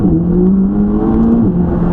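A McLaren supercar engine accelerating, heard as a steady loud whirring drone with rising tonal pitch over two seconds, close and alone.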